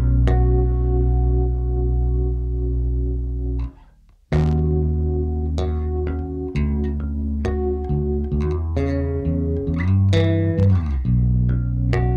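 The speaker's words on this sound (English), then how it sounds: "the last setting is slapback" Bass guitar through a Walrus Audio Arp-87 delay on slapback setting, a quick, tight echo doubling each pluck, sustained low tones and sharp attacks played alone at moderate loudness.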